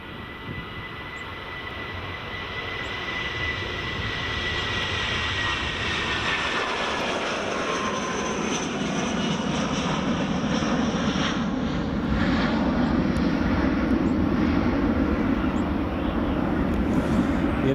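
Airliner coming in to land at Edinburgh Airport in the early morning, a jet whine and roar building from quieter to loud and sustained, with a deeper rumble growing toward the end, no speech.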